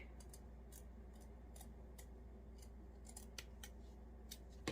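Scissors snip repeatedly while cutting the neck section of a handmade Grinch gnome, a series of quick, close, crisp cuts in an irregular rhythm over a faint steady background hum.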